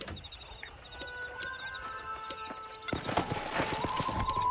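Horse hooves clip-clop in the Red Dead Redemption game, a steady run of hoofbeats over game ambience with music tones, growing louder and busier in the second half.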